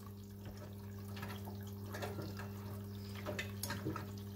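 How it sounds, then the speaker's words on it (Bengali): Surf Excel Matic liquid detergent poured into a washing machine holding a riding jacket, heard as soft, faint trickles and splashes over a steady low electrical hum. "লিকুইডটা ঢেলে দিলাম,"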